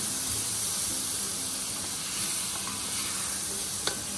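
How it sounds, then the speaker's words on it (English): Tomatoes fry in a pan with soft onions, giving a continuous loud sizzle and hiss, with faint stirring sounds and a single small clink near the end. "Okay, the onions are soft. At this point, I am going to add the tomatoes in here."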